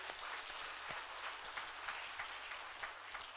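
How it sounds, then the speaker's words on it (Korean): Congregation applause at a Christmas Day worship service in a Korean church: steady, dense clapping from a large group, fairly quiet and even, with no talking over it. "다시 한번 하나님께 영광의 박수"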